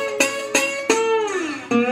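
A fast slide guitar passage in a Delta blues style rings out alone and close, with four sharp plucked attacks whose notes glide downward under the slide before sustaining.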